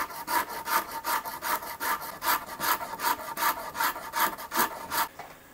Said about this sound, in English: So we're gonna grind on this thing for a minute with the Shinto.